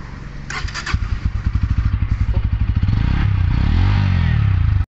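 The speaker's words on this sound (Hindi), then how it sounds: "अब चलते गाड़ी का आपको साउंड सुनाते हैं कि कैसा क्या साउंड आपको मिलता है" A 2022 Bajaj Pulsar N160 motorcycle engine starts and settles into a rapid, loud, pulsing idle, then revs up with a rising whine before cutting off abruptly.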